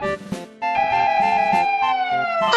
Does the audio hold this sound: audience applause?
no